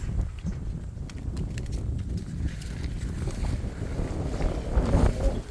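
Strong wind buffets the microphone in heavy, uneven gusts by flowing water in rice fields after harvest, rumbling low and loud, with faint outdoor sounds in the background.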